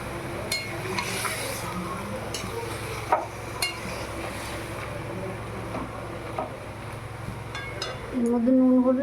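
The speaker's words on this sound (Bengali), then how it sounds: "এবার আমি চিকেনটা দিয়ে দেবো।" Chicken is stirred into fried masala in a pan, with a steady sizzle of frying. A spoon scrapes and clinks against the pan at irregular moments, and a louder burst of sizzling comes near the end.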